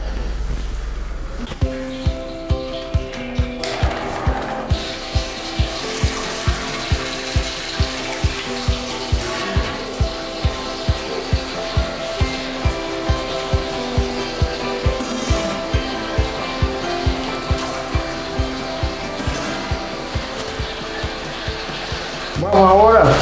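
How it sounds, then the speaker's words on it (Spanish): Motor running on a homebrew IPA beer setup after a valve is opened, a steady electric hum with a regular clicking pulse repeating evenly under a brief voice at the start. "Abrimos esa llave, abrimos esa llave y vamos a prender motor."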